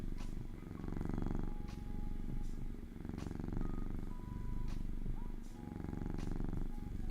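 A cat purrs close up in a steady, rumbling rhythm, with soft rustling and a few faint squeaks over it.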